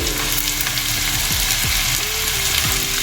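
Onions and shallots sautéing in a pan with crushed ginger, garlic, tomato and dried chillies for a Kerala beef curry, a loud continuous frying sizzle with a few stirring strokes and no speech.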